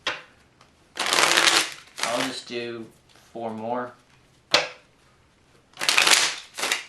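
A deck of playing cards is riffle-shuffled over and over in close, crisp bursts of rapid fluttering clicks, with a person speaking briefly between the shuffles.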